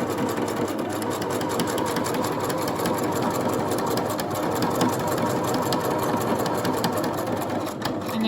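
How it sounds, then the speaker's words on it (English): Sewing machine stitching pintucks in fabric: a continuous fast mechanical whir and needle chatter, steady and close throughout, with no voice. "once you've started sewing, you can just do a little back tack just to keep your stitch in place"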